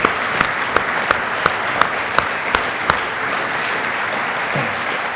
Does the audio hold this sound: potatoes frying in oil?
no